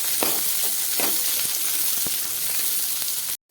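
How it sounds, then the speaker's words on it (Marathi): Onion and capsicum sizzle steadily in hot oil in a pan, a loud continuous crackle with a few soft utensil clicks, then cutting off abruptly near the end. "बघू शकता आपला कांदा फ्राय होत आलेला आहे त्यामध्ये मी घालून घेत आहे आपली शिमला मिर्च ती पण चांगली तेलेमध्ये फ्राय होऊन द्यायची आहे"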